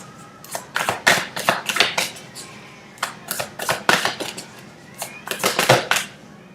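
Tarot cards being shuffled by hand during a reading, heard as repeated crisp riffling bursts in irregular clusters, fairly close and with no voices.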